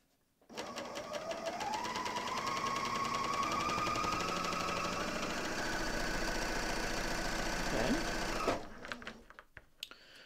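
A Bernina L 460 serger runs at a steady fast buzz while sewing and trimming fabric, its motor pitch rising slightly as it speeds up, close and loud, then stopping abruptly with a few small clicks.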